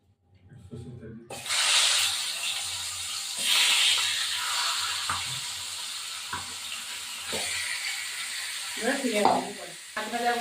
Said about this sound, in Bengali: মাছটা এবার ভাজা বসিয়ে দেবো মাছের মাথাটা